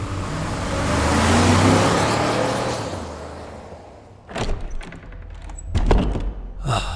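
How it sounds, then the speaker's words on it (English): A car drives off from the sidewalk, its engine swelling and then fading into the distance, followed by a few close thumps like doors or footsteps. "She stepped out of the car onto the sidewalk, waving at him as he drove away."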